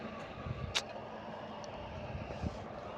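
Diesel engine of a GAL WVL422 bus on route 486, a steady low rumble heard from inside, with faint rattles and a couple of soft knocks and clicks.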